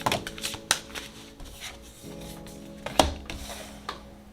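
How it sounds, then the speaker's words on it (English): A star tarot deck is shuffled by hand in a run of soft riffling and light tapping clicks, close and intermittent, with a few sharper slaps of the cards. "So let's go ahead and shuffle"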